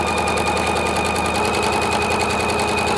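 A sewing machine stitching through fabric at a 1.5 stitch length, running as a loud, steady, fast mechanical whir with an even rapid pulse throughout, close by.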